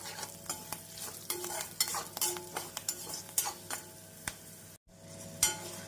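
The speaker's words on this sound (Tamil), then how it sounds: "நாம் மிதமான தீயில் வைத்து 1 நிமிடம் பொரிய விட்டோம் என்றால் கடலை பருப்பு நன்றாக பொரிந்து வந்துவிடும்" Chana dal fries in oil over medium heat for coconut rice, a soft, constant sizzle punctuated by frequent close scraping and tapping of a spoon against the pan, with one brief silent gap.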